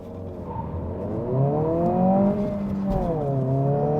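2023 Honda Civic Si with a 1.5-liter turbocharged four-cylinder revving: a steady engine hum that climbs and falls in pitch twice, heard up close and alone.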